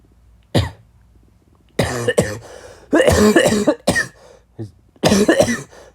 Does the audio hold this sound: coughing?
yes